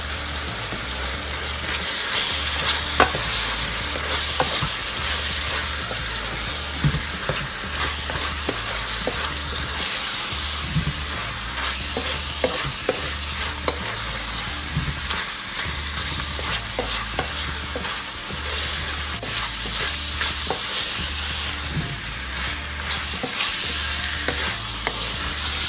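Spinach and pumpkin stir-fry in a pan for a keto veggie dish, giving a steady, close sizzle of frying with repeated scraping and stirring strokes throughout, with no talking.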